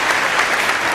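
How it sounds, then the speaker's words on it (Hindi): Audience at a Hindi poetry gathering in Nimbahera claps loudly, a dense, steady burst of applause filling the whole moment with no talk over it. "एक बार जोरदार तालियों की गड़गड़ाहट के साथ मुझे एहसास कराओ कि छोटा बैठे।"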